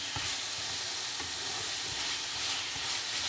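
Noodles with beef and oyster sauce stir-fry in a hot pan, giving a steady, loud sizzle with soft scraping stir strokes throughout, no voices.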